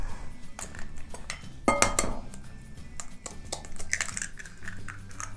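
Eggs going into a mixing bowl for chocolate s'mores stuffed waffle batter, with sharp clinks of shell and utensil against the bowl, a louder knock near the middle, and scattered lighter taps over quiet kitchen background.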